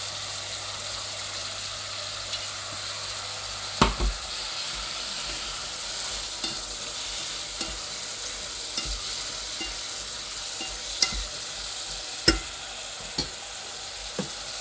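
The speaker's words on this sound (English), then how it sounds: "And then I add the whole kimchi." Kimchi and tofu fry in a pan with a steady low sizzle while a utensil stirs them, giving several sharp scraping clicks at irregular intervals against the hiss.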